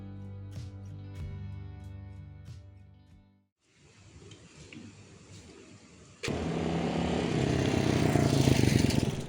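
A motorbike on a road in Thailand: first a low idling engine, then a steady broadband rush of riding with wind and engine noise that grows louder toward the end, no talk.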